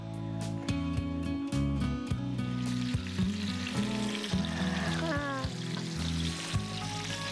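Fish frying in ghee in a pan, with a bright, continuous sizzle and bubbling heard close up under steady background music and occasional voices.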